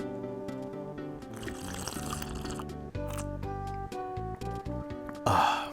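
Morning coffee is poured into a cup, with a close liquid fill and trickle alongside light clinks and handling sounds, ending in a brief louder splash.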